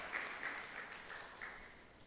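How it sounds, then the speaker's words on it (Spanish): A church congregation applauds in a sustained, somewhat distant patter of clapping that gradually fades, with no voices over it. "Dale un fuerte aplauso a Dios."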